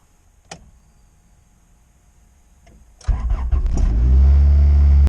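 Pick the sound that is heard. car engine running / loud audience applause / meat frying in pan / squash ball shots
car engine running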